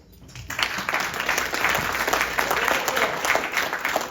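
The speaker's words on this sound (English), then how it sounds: "And I want you to give yourselves an applause." An audience claps steadily, a dense wash of applause that swells quickly and holds for several seconds.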